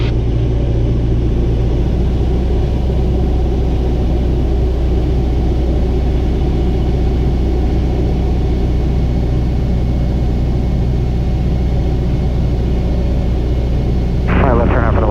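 Steady, loud engine drone fills the cockpit of a Piper Archer training aircraft on approach to runway 34 left at Manassas, a constant low rumble throughout with an instructor's voice talking over it.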